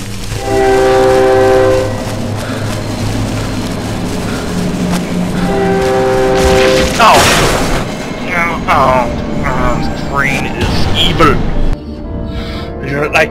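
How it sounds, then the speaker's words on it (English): In the horror video game Cry of Fear, a train blasts its loud horn twice, then rumbles and clatters past. A voice joins in near the end. "Train is not my buddy."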